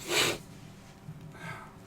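A short, forceful nasal blast of air, like someone blowing their nose, followed by quieter sniffling breaths.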